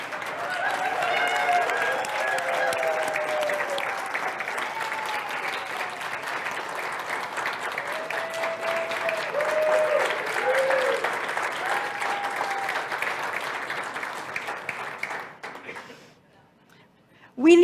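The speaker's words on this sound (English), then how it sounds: "We need all that applause" Sustained applause from a congregation at a Center for Spiritual Living service celebrating a ministerial school graduation, with cheering voices and whoops mixed in, fading to near silence at the end.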